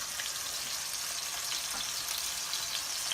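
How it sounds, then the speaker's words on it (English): Catfish fillets fry in a pan with a steady, even crackling sizzle that holds at a moderate level throughout, no voices present. "we're pretty much frying these fillets until they're nice and crispy and brown, golden brown on both sides"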